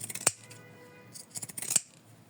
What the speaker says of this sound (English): trim it from the sides with 3 millimeter seam allowance